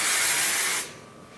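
An aerosol hairspray is sprayed onto wavy hair in one short, close, bright hissing burst that cuts off abruptly and leaves a faint room tone.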